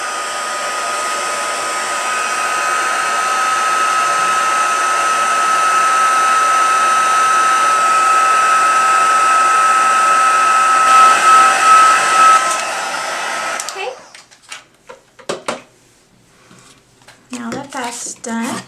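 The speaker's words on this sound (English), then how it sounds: "Just going to turn on my heat tool." Heat embossing tool blowing hot air at close range, a steady loud whir for about thirteen seconds that cuts off, followed by soft handling clicks and rustles.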